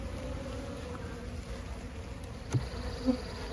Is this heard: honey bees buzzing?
yes